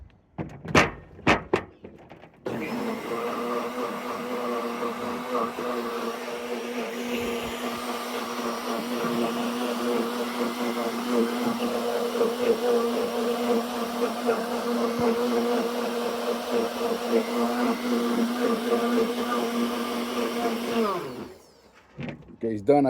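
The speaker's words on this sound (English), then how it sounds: "And I'm gonna put it in my blender right here." A blender whirs steadily through mojito ingredients in a home kitchen, a loud continuous motor drone that starts after a few clicks and runs unbroken for about twenty seconds before cutting off.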